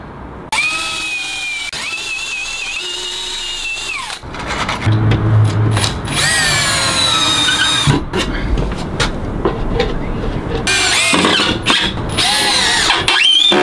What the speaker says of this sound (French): je vais faire des pré-trous ici et puis je viendrai les visser